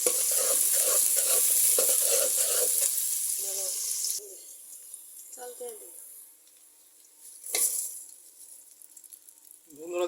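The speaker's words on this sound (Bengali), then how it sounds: "গরম তেলে পেঁয়াজ কাঁচামরিচ দিয়ে দিলাম।" Onions and green chilies hit hot oil on a brick stove, a loud rushing sizzle for the first few seconds that then drops away, leaving quieter scrapes and a brief hissing burst.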